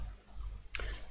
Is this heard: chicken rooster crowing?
no